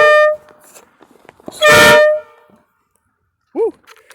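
Re-tuned half-scale model train horns sounding outdoors, with two loud sustained blasts, one short and one longer, followed by a brief lower honk, all close and powerful with quiet gaps between.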